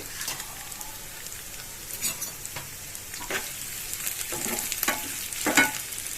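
Ginger and pepper frying in ghee for temple-style daddojanam, a soft continuous sizzle with scattered crackles and stirring scrapes, close and moderately quiet.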